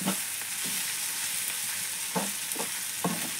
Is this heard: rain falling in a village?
no